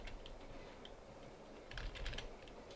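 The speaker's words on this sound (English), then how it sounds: "I'm literally typing right here, but it won't let me type on YouTube in the search bar." Computer keyboard typing, a light patter of quiet keystrokes that thickens into a brief quick burst near the end, close and alone with no talk.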